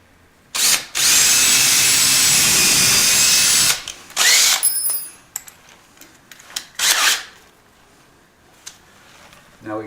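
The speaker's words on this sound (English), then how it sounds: "I need to drill the hole in the other side." A power drill bores a hole in wood while a workbench is built in a garage, one loud sustained burst of about three seconds followed by shorter handling knocks and clatter.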